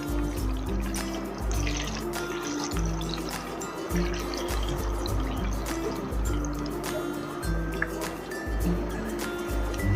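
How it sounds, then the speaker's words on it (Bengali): Flour pakoras deep-frying in hot oil, a steady dense sizzle and crackle with irregular low bursts running throughout, close and continuous, with no talk over it. "তাহলে প্রথমে আমি পকোড়াগুলোকে সব তেলে ভেজে নেব।"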